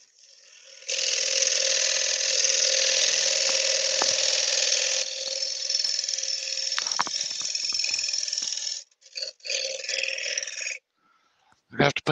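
A wood lathe spins a bowl blank while a gouge cuts, giving a loud sustained rasping whir that stops and restarts in short bursts near the end, with scattered clicks and knocks.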